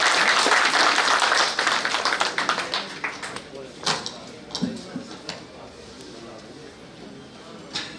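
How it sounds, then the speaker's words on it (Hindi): Loud applause breaks out for Kunwar Danish Ali at a launch event, a dense burst that thins within a couple of seconds into scattered claps and taps as a voice speaks. "ये लगातार जोरदार तालियां"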